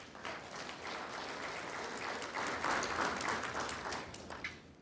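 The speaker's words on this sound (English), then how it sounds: "A round of applause for yourselves." Applause from the audience at a SADC forum relaunch, soft, distant-sounding clapping that swells slightly midway and fades toward the end, with no talk over it.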